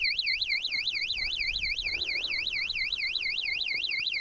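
A touch-triggered anti-theft alarm on a vehicle at Val Thorens wails continuously, a loud, steady electronic warble sweeping up and down in quick regular cycles over faint background noise.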